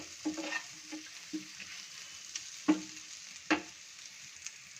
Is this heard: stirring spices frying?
yes